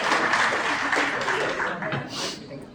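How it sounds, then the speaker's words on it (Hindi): An audience at a performance awards event in a hotel claps, mixed with some chuckling and background voices, then tapers off near the end. "आप इनके लिए तालियां बजाएंगे"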